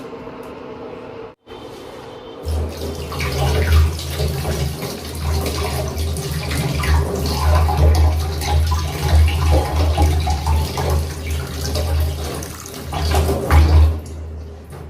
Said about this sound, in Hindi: पहले ला पानी से धो लेते ना हम।